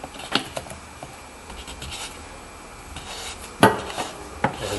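A fuel filter with a new O-ring being screwed back in by hand on a 2013 Ram 2500 6.7-liter diesel, with light metallic scrapes and clicks: scattered soft taps, then a sharper cluster of clinks near the end, close and quiet.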